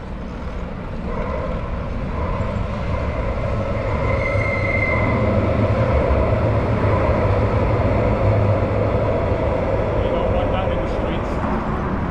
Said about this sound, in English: Here's the tram again.